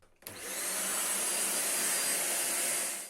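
A Xiaomi Deerma budget vacuum cleaner switches on and settles into a loud, steady, airy whine with a rushing motor roar, continuous and close.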